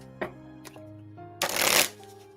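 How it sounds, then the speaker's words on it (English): Tarot cards being shuffled and drawn from a deck: a few soft ticks and slides, then one dense riffling burst of cards close by, with a quiet steady tone underneath. "let me pull some more cards"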